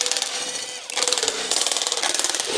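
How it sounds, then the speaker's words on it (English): Ratchet working loose half-inch bolts on a 1994 Ford F150 EFI, loud close rapid clicking bursts in a steady pulsing run, with a brief pause near the start and no voices. "we're gonna go ahead and remove all of these bolts, and they look to be like 1/2 inch."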